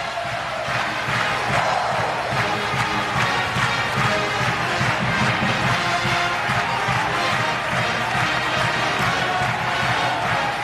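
A sold-out crowd fills Thompson-Boling Arena in Knoxville before a Kentucky–Tennessee college basketball game, a loud, constant roar of voices and cheering that stays steady throughout.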